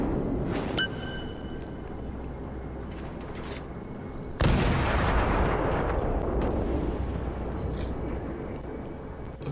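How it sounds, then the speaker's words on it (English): Naval gunfire from a warship video game firing high explosive shells, with rumbling artillery booms and a sharp, loud blast midway, followed by a long rolling decay under continuous low battle noise. "Got one more hit there, but it did no damage, which is a bit odd for high explosive shells."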